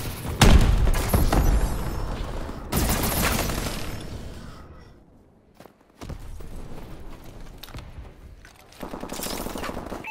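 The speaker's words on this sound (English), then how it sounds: "Friendly missile strikes incoming." Missile strikes pound the ground in Call of Duty: Advanced Warfare, with dense rapid explosions and rattling gunfire-like bursts in loud waves, a brief lull, then more blasts resuming.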